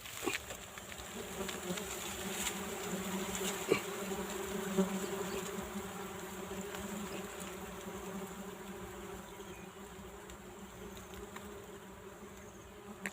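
Bees swarm around a very large wild honeycomb during a honey hunt, their dense buzzing droning steadily and loudly up close for the whole stretch, with no talk.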